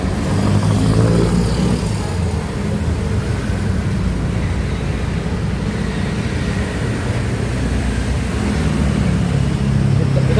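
A large motorcycle engine running, a loud, steady low rumble that holds throughout with little change in pitch.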